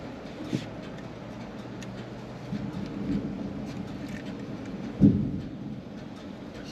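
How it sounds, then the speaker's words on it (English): Thunder rolling during a severe Oklahoma storm, low distant rumbles with a sharper crack near the end over steady background noise, no talking. "Starting to get some lightning and thunder"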